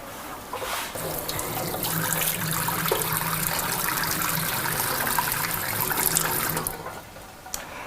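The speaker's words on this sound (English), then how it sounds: "you just literally want that to come to the boil, and then we'll drain it. And I've got a strainer here." Boiled rhubarb water poured from a pan through a strainer into a sink, a steady rushing splash and gurgle lasting several seconds, close and fairly loud, then tapering off.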